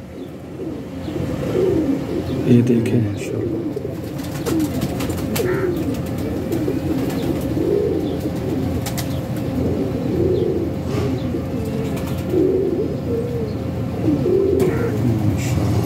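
Pigeons coo steadily in a low, throaty rolling murmur, many birds overlapping and close by, with a voice briefly speaking over them.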